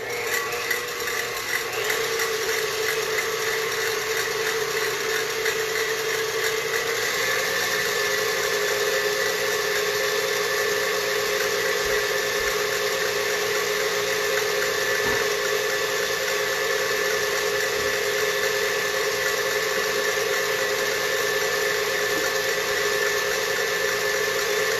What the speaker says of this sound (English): So for this, we're using the whisk attachment. And we're gonna whisk them for 2 minutes.